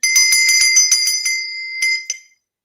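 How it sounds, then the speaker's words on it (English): A Gatco solid brass school bell with a brass clapper is shaken in a rapid ringing burst, bright metallic strokes loud and close, then a couple of final dings before it falls silent. "This is a Gatco brass bell."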